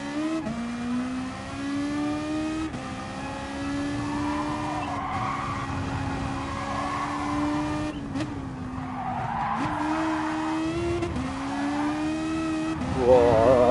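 FT1 race car in a racing game oversteering through corners, engine revving in a steady high drone with shifting pitch while tires squeal and skid repeatedly, a loud slide swelling near the end, with a voice talking over it.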